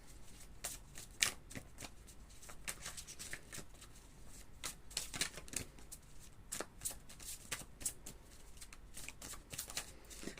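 A deck of tarot cards being shuffled by hand, giving soft, rapid riffling and papery slaps in uneven bursts, close and quiet, with no talking.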